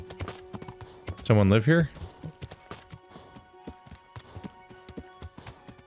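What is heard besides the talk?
horse hooves trotting in video game Kingdom Come: Deliverance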